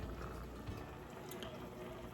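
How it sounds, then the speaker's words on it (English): Water in a canning pot at a low, gentle boil, a faint steady bubbling and hiss with no talking over it. "my canning water has come to kind of a low boil at this point, just a little bubbles coming up"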